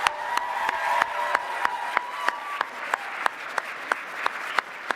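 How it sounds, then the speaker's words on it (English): A closing ceremony audience applauds the guests of honor in a soft, steady patter, with sharp regular clicks cutting through at an even beat and a faint tone underneath. "Please give one more huge round of applause for our 2024 guests of honor."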